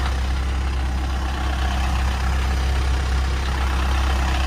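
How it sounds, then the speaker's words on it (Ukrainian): A Volkswagen Touran minivan engine runs steadily at idle, a constant low rumble and hum with no pauses and no voices. "двигун працює гарно"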